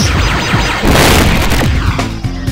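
A boss in Spyro: Year of the Dragon fires shots, producing loud booming blasts and crashing impacts that run together over a couple of seconds, dense and close with a heavy rumbling low end.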